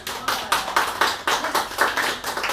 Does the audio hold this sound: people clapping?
yes